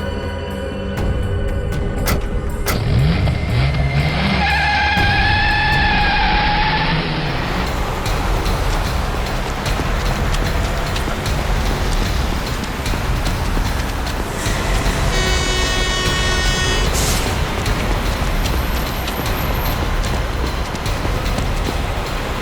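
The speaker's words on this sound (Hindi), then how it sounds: "अबे गाड़ी भगा, तेज चला।" A car roars away hard under a constant loud engine-and-road rumble with horn-like tonal bursts and high whines over it, a dense chaotic getaway din with no clear speech.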